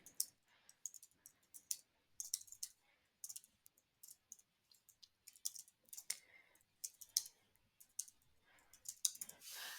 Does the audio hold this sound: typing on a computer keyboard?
yes